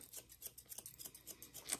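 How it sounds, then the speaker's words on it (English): Art Deco thinning scissors snip through hair in a quick, regular run of crisp metallic cuts, close and quiet, with no one talking. "These are how these scissors work."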